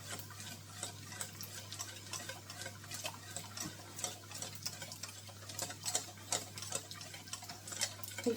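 A cheese sauce for macaroni cheese being whisked in a pan on the heat as it thickens; quick, regular ticking taps of the whisk against the pan, fairly faint and steady throughout.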